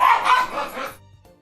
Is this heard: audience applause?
no